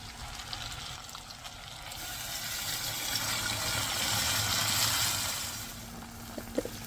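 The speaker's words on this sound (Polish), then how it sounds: "A więc lecimy z wodą." Water is poured into a cooking pot over meat, a faint, continuous trickling pour that slowly swells and then eases near the end.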